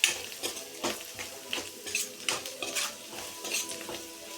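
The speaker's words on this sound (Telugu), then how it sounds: "కారము, ఎర్రగడ్డలు పచ్చి వాసన వచ్చేదాకా ఇలా కాసేపు కలిపెట్టుకున్నాము" Chili powder and raw onions stirred in a pan for an egg dish, a spoon scraping in repeated strokes about every half second over a soft, steady sizzle, close by with no talking.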